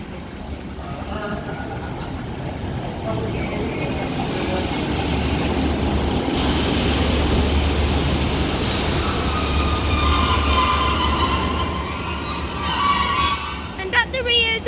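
A Northern train formed of a class 150 unit leading and a class 156 at the rear, running at Liverpool South Parkway station, rumbles loud and steady with a broad rolling roar, building gradually, as wheel squeal and screeching brakes rise near the end.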